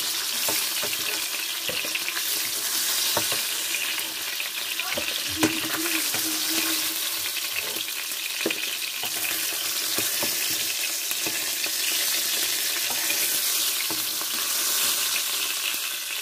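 Rohu fish pieces frying in oil in a home kitchen, a steady crackling sizzle close by with scattered spatters and a couple of soft utensil knocks, no voices.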